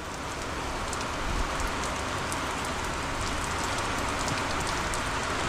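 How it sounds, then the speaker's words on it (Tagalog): Typhoon rain pours down with wind, a dense, unbroken roaring hiss of heavy downpour on surfaces that stays loud and even throughout. "Yan ay bagyo niyan, no? Salukuyan pa lang nananalasa sa atin yan."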